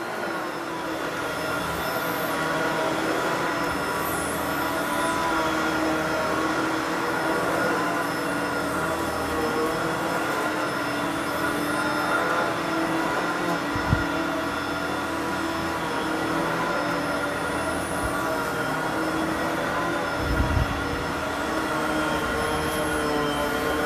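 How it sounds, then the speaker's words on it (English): Kenmore bagless canister vacuum cleaner running continuously during an upstairs cleaning job, a steady droning whine with a constant hum, close by, with occasional bumps and no voices. "This canister vac actually follows relatively well."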